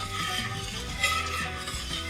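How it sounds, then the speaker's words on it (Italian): Vino cotto with cinnamon being stirred in a pot on the stove, making a soft, continuous swishing and faint scraping at low volume, with no talking. "Diamo una mescolata"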